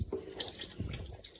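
A weak, uneven trickle of water runs from a household tap as the supply returns after an outage, sounding soft and close with small splashes and no voices.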